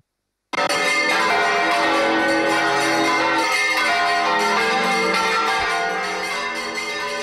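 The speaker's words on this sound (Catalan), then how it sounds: "Així sonen alhora totes les campanes d'Ontinyent." Ontinyent's church bells ring all together in a traditional hand-rung peal, a ceremonial concert honouring the patron saint. A loud, dense wash of overlapping metallic strikes and ringing tones starts abruptly and sustains throughout.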